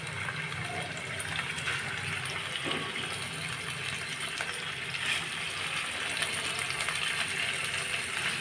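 Katla fish frying in hot oil in a pan, a steady close hiss and bubbling sizzle running continuously at moderate loudness with no talk.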